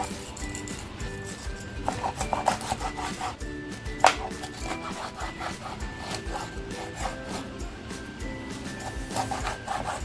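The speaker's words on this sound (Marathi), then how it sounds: "अगोदर कापून घेते अगोदर व्यवस्थित साफ करून घेते" Fresh khapri pomfret is scaled and cut on a board, giving close, repeated scraping and rubbing strokes with small knocks and a sharp click partway through; no one talks.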